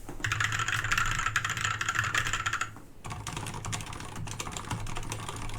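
Rapid, muffled typing on a mechanical keyboard with silent red switches, a dense stream of soft keystrokes with a short pause midway, close and moderately quiet.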